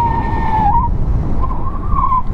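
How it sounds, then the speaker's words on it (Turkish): Rear tire of a Yuki GP2 motorcycle without rear ABS skidding under hard braking, a loud close squeal over engine rumble that breaks off and returns. "Görmüş olduğunuz gibi motorun arkasında ABS yok."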